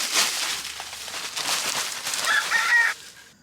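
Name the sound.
broody hens clucking in a coop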